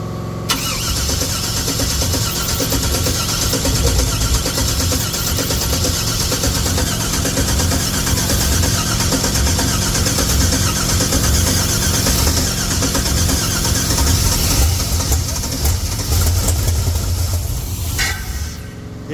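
1964 GMC truck engine cranking and catching, then running roughly in a loud, continuous rumble close by that cuts off near the end.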